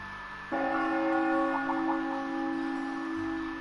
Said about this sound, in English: That must be Heimdall Cathedral's bell.